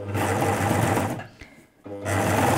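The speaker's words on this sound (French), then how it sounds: "Je vais commencer à coudre normalement droit." A sewing machine stitching T-shirt fabric runs steadily in a fast buzzing whir, briefly pausing near the end before starting up again, close and loud.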